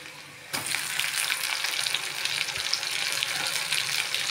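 Tomatoes and curry leaves drop into hot oil in a pan for a brinjal and gooseberry curry, bursting into a loud, steady sizzle that holds on without a break and with no talking.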